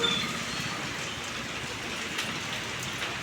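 Heavy rain coming down outdoors in Andhra Pradesh near a shop and a parked auto rickshaw, a dense, constant hiss of drops hitting surfaces with no speech over it.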